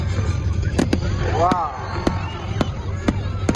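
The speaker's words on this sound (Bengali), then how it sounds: "আজকের এই ইন্টারেস্টিং ফায়ার ওয়ার্কসটা ছিল সবার জন্য অত্যন্ত আগ্রহের বিষয়" Fireworks at the opening ceremony of Qatar's 14th food festival in 2025 go off as scattered sharp bangs and pops at irregular intervals, with a whistling rise among them. A voice talks over the bursts.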